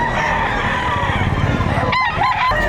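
A rooster at the Padre Garcia, Batangas livestock auction market crows loudly and close near the end, cutting through a busy din of voices and crowd noise.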